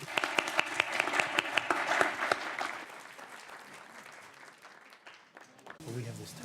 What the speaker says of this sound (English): Really warm round of applause for the gentlemen.